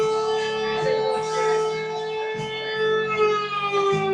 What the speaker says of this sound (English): It's like an air raid siren or something.